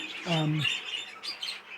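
Young budgerigar giving a few thin, high chirps in a bird room, faint and close, mixed with someone talking quietly.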